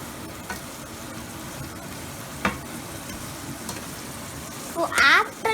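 Uppittu being stirred in a pan, soft constant sizzle with a few sparse scrapes and a brief louder clatter near the end, close and fairly quiet.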